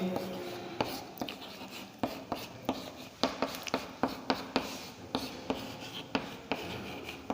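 Pen writing notes for a Hindi-language geography lesson, heard as a run of distinct scratching strokes and taps at a steady uneven rhythm, close and fairly quiet with no talking.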